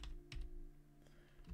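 Terminal command typed on a computer keyboard, a few quiet close-up key clicks in quick succession, with no talking.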